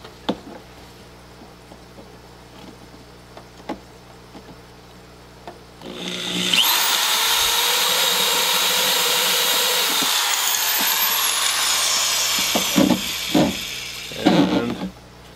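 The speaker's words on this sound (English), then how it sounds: "The next step is to drill a hole for the hose for the drain valve" A power drill spins up midway and bores steadily through a container for a hydroponic system's drain hose, a loud sustained whine lasting several seconds before winding down amid handling clatter.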